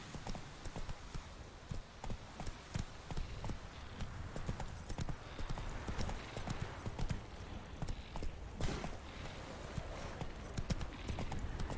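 Roach the horse galloping in Witcher 3, with rapid, continuous hoof clip-clops throughout and a faint ambient game background beneath.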